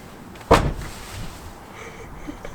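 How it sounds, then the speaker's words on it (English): A car door on a turbocharged Honda Civic shuts with one sharp, close thud, followed by quiet background noise. "Close the door"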